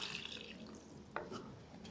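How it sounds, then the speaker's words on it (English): Tamarind water being poured into a pan of simmering vathal kolumbu gives a soft, faint trickle and splash, with a small clink midway and no voices. "I'm adding tamarind water now."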